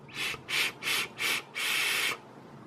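Air drawn through the top airflow of a Torque RDA vape atomizer, heard as four short hissing draws followed by one longer pull, close and breathy with brief pauses between.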